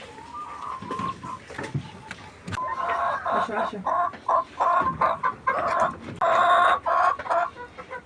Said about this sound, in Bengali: এই তো আমার ফার্মি মুরগিগুলো।